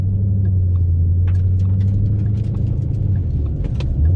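An automatic car driving in drive gear gives a steady low engine rumble and road drone from inside the cabin, with faint clicks and rattles over it.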